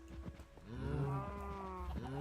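Minecraft cows moo in the game, a near, fairly loud drawn-out low moo with a brief second call at the end, heard alone.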